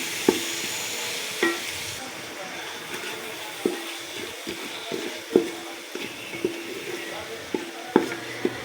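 Spices, ground coriander and turmeric among them, are stirred into egg masala in a pan, heard as a series of spoon taps and scrapes against the metal over a low, soft sizzle, fairly close.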